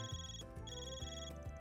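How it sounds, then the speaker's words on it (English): A phone rings in the video game Trails Through Daybreak with a repeating electronic ringtone melody, a few quick tonal bursts pulsing at a steady rhythm, heard alone. "Your Zypha's ringing, Vaughn"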